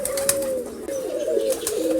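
Racer pigeons cooing in a low, wavering drawn-out call that rises and falls over two seconds, close and moderately loud, with faint chirpy clicks above.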